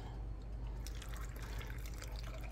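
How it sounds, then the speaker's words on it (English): Water pours into a pressure canner while canning potatoes, a steady close splashing and trickle over a low constant hum. "Now we'll add our water."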